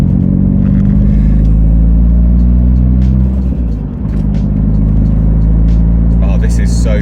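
Nissan Pulsar GTI-R with a newly built turbo engine under way, heard from inside as a loud, steady low rumble with a brief dip in the middle before the drone resumes.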